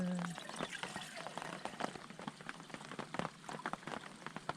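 Water poured into a pot on a camping stove outdoors in heavy rain, a crackly uneven splashing and trickling at close range, with no talk over it.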